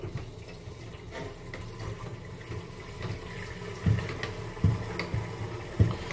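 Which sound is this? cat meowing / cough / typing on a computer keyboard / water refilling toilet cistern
water refilling toilet cistern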